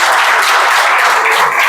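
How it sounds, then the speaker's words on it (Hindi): An indoor audience bursts into loud, dense applause at a small celebration, a close and continuous wash of clapping with no pauses. "एक बार जोरदार ताली हो जाए।"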